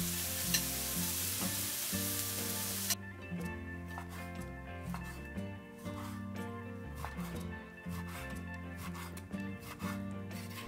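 Beef slices grilling in a frying pan preheated over high heat, for Lao beef salad. A loud, dense sizzle fills the first three seconds, then quieter frying continues under steady tonal background sounds, with no talking.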